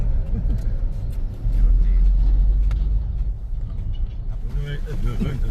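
Cars pass along dusty Laos Highway 13, mostly Chinese vehicles, as a steady low engine and road rumble from inside a vehicle, with someone talking over it.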